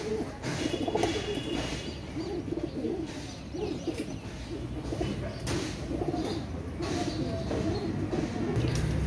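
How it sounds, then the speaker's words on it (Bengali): Pakistani Rampuri pigeons cooing close by, soft repeated throaty coos and some chirps over a constant rustly, noisy background that runs throughout. "ভিউয়ার্স এটা পাকিস্তানি রামপুরি কবুতর"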